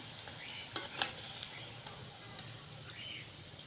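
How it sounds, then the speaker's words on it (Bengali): Soft, steady sizzle of semolina pakoras deep-frying in oil, with a few sharp metallic clicks early on, quiet and close. "এই একই রকমভাবে সব পকোড়াগুলো ভেজে নেব"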